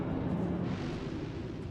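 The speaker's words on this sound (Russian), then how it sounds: "Ой, а что там за взрыв?" A deep rumbling blast from the video game Starfield rolls on and slowly fades, a heavy low roar heard alone with no talking.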